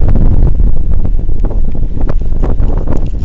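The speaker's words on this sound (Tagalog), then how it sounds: "Grabe hangin guys no." Loud, strong wind buffeting the microphone with a constant low roar and gusty rumbles throughout, no talking.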